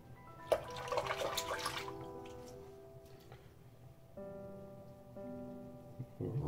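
Tap water running and splashing at a sink while rinsing after a shave, intermittent close trickling and spatter, fairly quiet with pauses between bursts.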